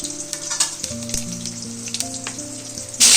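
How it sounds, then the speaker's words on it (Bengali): Faint crackling of hot oil with a low hum, then a sudden loud burst of sizzling as nigella seeds drop into the wok. "এবার কড়াইতে দিয়ে দেবো অল্প একটু কালো জিরে"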